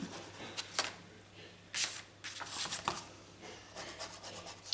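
Paper flaps are glued and pressed by hand into a wedding album, making soft, close rubbing and brushing strokes with a few crisp paper scrapes in an irregular rhythm, with no one speaking.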